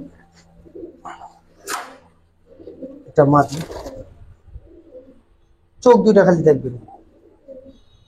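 Silver khaki sabchila pigeons kept at a home loft coo in a few short, soft bursts beneath close conversation between men.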